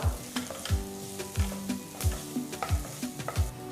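Chopped onions and green chilies sautéing in a pan, a soft sizzle under a steady rhythm of spatula scrapes and knocks against the pan, roughly twice a second.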